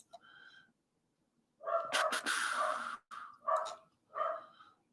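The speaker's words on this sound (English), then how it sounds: "The dog's just going nuts." A dog barks excitedly indoors in several loud bursts, a short yip at the start, then a cluster of barks and two more separate barks, fairly close and with no talk over them.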